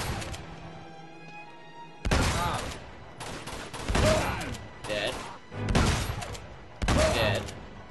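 Gunfire in the Uncharted 2: Among Thieves video game, a rooftop shooter firing down: several loud bursts of shots in clusters, separated by short quieter gaps, after a calmer opening.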